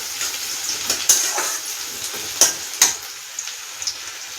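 Onions fry in a pan with cumin, giving a steady, quiet sizzle. A few sharp pops and light scrapes of stirring break through the hiss.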